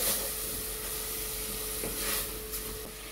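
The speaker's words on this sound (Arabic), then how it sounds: "نحط سمنه وزيت، وهننزل بالبصل بتاعنا هنشوحه كويس جدا كده مع قرن فلفل كده." Onions and a chili pepper fry in ghee and oil, a close, steady sizzle and crackle with faint stirring scrapes throughout.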